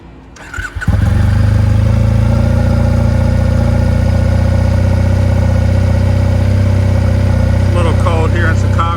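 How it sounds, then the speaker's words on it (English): A Triumph Bonneville motorcycle engine cranks briefly, catches and settles into a loud, steady idle with a deep, even throb on a cold day in Chicago, running alone without talk. "right, so let's get her started"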